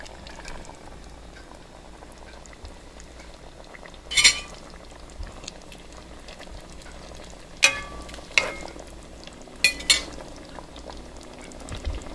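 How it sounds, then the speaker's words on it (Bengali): Pumpkin and fried eggs simmer in a little water in a pot, giving a soft low bubbling with a few sharp clinks of a utensil against the pan. "এতটুকু পানিতেই সিদ্ধ হয়ে যাবে।"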